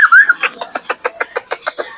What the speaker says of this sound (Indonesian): Ini ada Nuri Ternate atau Nuri Ambon. Atau Nuri Ambon. Ini paling berisik di sini teman-teman nih.